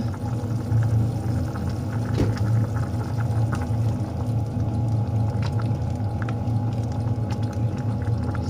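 Fish sauce poured into a simmering pumpkin and pork curry with holy basil: a steady, even liquid wash over a low, constant cooking hum, with no voices.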